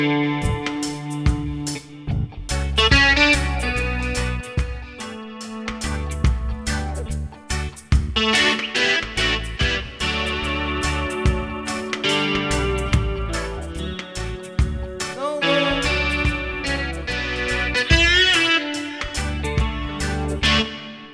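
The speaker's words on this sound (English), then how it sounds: "If you want, for example, a little bit more distortion in this sound" A guitar voice on a Yamaha Tyros 5 arrangement keyboard plays with heavy DSP distortion, loud and continuous, with chords and lead lines over a backing rhythm and no talking.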